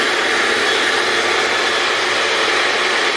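A hair dryer runs at full power, giving a loud, close, constant airy roar with broad whooshing noise and no change in level. No one talks over it.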